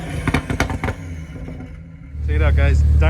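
A BMW M4 Competition with a Dinan axle-back and mid-pipe exhaust revs loudly nearby, a rising, rasping burst and steady roar after a few seconds of talk and a brief lull.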